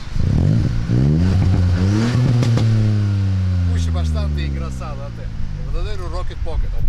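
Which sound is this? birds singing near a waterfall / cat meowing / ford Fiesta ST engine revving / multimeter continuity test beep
ford Fiesta ST engine revving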